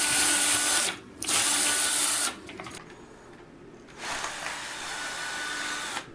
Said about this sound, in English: We're going to drill right into the lens here.